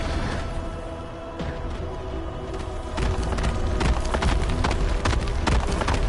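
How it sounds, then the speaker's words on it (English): Horse hooves clip-clopping in the Genshin Impact video game, a rapid, steady run of hoofbeats that grows louder and denser after a few seconds, over a busy game background. "Realmente é um barulho de cavalo"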